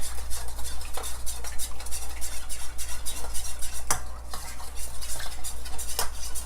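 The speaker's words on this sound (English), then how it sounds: "I'm gonna add in my vanilla. Mix that in." Vanilla is stirred into tiramisu cream in a bowl, giving a near, rhythmic scraping and swishing of a utensil with occasional sharp clinks against the bowl over a low steady hum; no one speaks.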